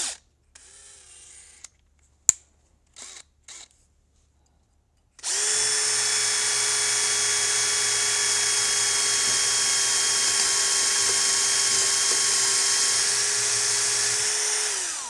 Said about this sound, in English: You can't drill a hole through that.